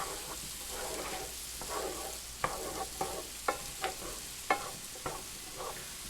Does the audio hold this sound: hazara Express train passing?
no